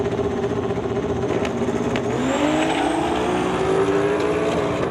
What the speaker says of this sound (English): blasting the tires off of the Mercury at the top end